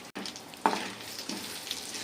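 Chana dal, mustard seeds and cumin sizzle in hot oil in a kadai, a soft steady frying hiss with a few faint pops and stirring sounds, close and fairly quiet.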